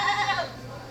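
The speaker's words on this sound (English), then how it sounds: "you can't deliver dirty goats to Mrs. Pettinsall" A single wavering goat bleat, close and fairly loud, tapering off after about half a second into quiet background hum.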